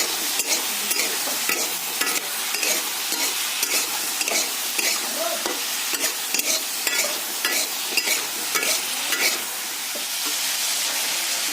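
Salted food fries in a pan while being stirred, producing a loud, continuous sizzle with a brisk, regular rhythm of scraping strokes close by and no talking.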